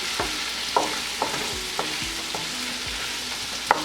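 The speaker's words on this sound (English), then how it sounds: "I'll add in the tomatoes and let this cook till the tomatoes become a bit pulpy" Tomatoes and mixed vegetables for a vegetable jalfrezi cook in a pan, a soft sizzle broken by rhythmic scrapes and taps of a spoon stirring about every half second, with no voices.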